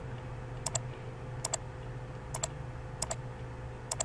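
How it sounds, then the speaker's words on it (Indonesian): Home key pressed on a computer keyboard: five crisp double clicks spaced about a second apart, close and fairly quiet over a steady low room hum. "kita tekan tombol home pada keyboard"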